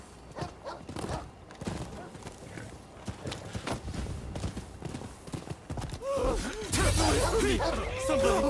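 Horse hooves clip-clopping in the samurai action game Rise of the Ronin, a steady run of clattering steps with game sounds and some speech mixed in, swelling louder near the end.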